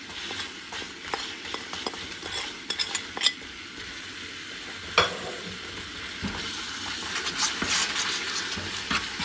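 Tamarind toffee mixture with salt, black salt, cumin, red chilli and chaat masala cooking down in a pan, a steady soft bubbling sizzle broken by scattered scrapes and clinks of a spoon stirring against the metal.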